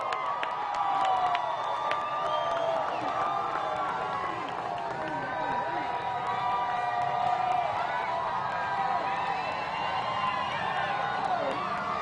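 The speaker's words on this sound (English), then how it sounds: "You can hear just how excited the crowd is" An excited LSU Tigers crowd celebrates inside the Pete Maravich Assembly Center, a dense, sustained roar of cheering, whoops and shouting voices that stays loud throughout.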